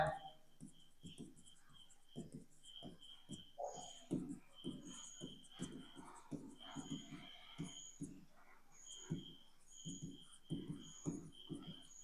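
A pen writes a mother's full name on a Navodaya exam 2025 application form, giving a steady run of soft, close scratching strokes at low volume, with faint talk in the background.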